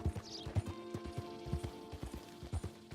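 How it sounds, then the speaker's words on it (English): Horse hooves in the video game Red Dead Redemption 2, a close, rhythmic clip-clop of a trotting horse against a steady tonal game backdrop, with no talking. "A horse beats me out of nowhere."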